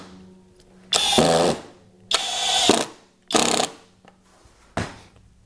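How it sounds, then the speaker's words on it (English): Flex impact driver sinking 3-inch drywall screws at speed 1, four separate bursts of rapid hammering rattle, each under a second long, loud and close with short quiet gaps between them. "Let's start again with these 3-inch drywall screws in speed 1."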